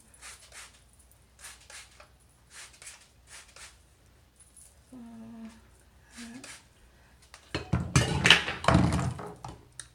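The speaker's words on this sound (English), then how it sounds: "Knocking things over." Objects knocked over at home during hair styling: scattered light taps and thunks, then a louder clattering burst near the end, with faint voice sounds in between.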